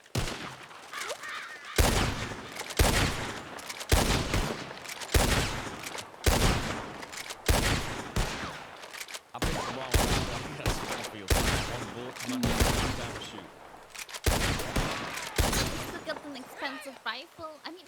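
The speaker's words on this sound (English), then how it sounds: "Let's go ahead and get some rifle work in here." Rifle gunfire in the Western roleplay game Red Dead RP (WildRP): a long series of sharp, loud cracks comes in irregular bursts, some fired in quick succession, with a voice talking between the shots.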